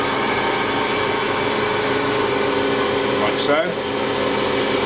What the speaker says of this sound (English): I use a little bit of polishing compound on that wheel